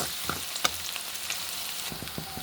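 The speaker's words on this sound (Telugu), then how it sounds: "చూడండి ఫ్రెండ్స్ ఇలా కొంచెము ఆనియన్స్ ఫ్రై అయితే సరిపోతాయి" Onions fry quietly in a pan for a paneer curry, a soft continuous sizzle punctuated by a few light scrapes and taps of a stirring utensil.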